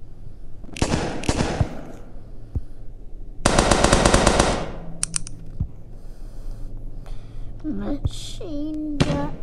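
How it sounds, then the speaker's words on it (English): Machine gun fire in a video game comes in a few loud, rapid bursts, including one sustained volley of about a second, mixed with other game effects and electronic tones, while people talk. "Machine gun."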